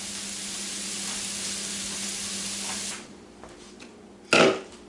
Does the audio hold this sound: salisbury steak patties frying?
yes